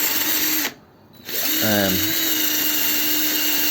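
A loud, steady power drill with a metal cleaning attachment whines continuously while cleaning a Znen Tommy 125 scooter's engine casing, cutting out briefly before spinning back up, with a short pitched tone as it restarts.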